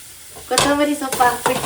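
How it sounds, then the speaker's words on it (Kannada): A bread mixture with coriander leaves is stirred and fried in a pan, giving a steady soft sizzle broken by several scraping stirs close to the microphone. "ಮಿಕ್ಸ್ ಮಾಡಿಬಿಟ್ಟು ಕಮ್ಮಿ ಫ್ಲೇಮಲ್ಲಿ ಬೇಯಕ್ಕಿಡ್ತೀನಿ"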